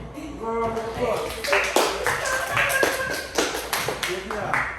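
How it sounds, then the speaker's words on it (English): Schoolchildren in a classroom clap for a classmate, scattered sharp claps mixed with children's voices and chatter over the top, uneven and fairly close. "Round of applause."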